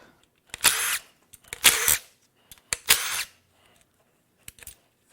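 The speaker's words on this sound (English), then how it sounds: "Next, we'll unbolt the pickup." A power tool unbolts the oil pickup from a VW 5-cylinder engine in three short whirring bursts, close and fairly loud, followed by faint clicks and handling noises.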